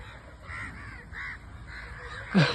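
Crows caw repeatedly at a moderate distance, a few hoarse calls spaced about half a second apart, ending with a sharper, louder burst.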